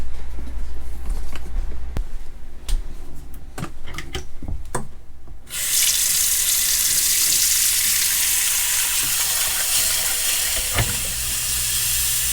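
Clicks and clunks come first, then a tap fed by a rainwater harvesting system opens and water gushes under high pressure steadily into a sink, a close, constant hiss that continues to the end.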